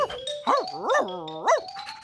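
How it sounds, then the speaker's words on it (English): A cartoon dog in a children's phonics show gives three bright, tonal, sing-song barks in quick succession, close and clean, with a sustained musical tone between them. "Dog!"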